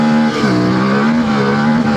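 CFMOTO Ibex 450 four-stroke motorcycle engine running loud and close, a steady throbbing drone with a brief dip and pickup in revs, no talk.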